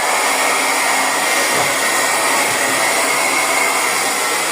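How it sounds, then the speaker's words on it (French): A small hair dryer runs continuously at full power with a loud, steady, breathy whoosh and hum, with no pauses. "tu prends ton petit sèche-cheveux et tu vois, tu le mets sur un coin,"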